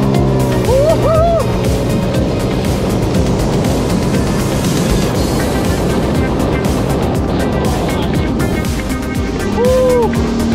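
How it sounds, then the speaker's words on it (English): Jet ski engine roaring at full throttle on open water, a loud sustained rough drone with splashing and wind noise, with brief excited whoops from the rider. "I'll give her full throttle. Alright. Let's do a 0-40."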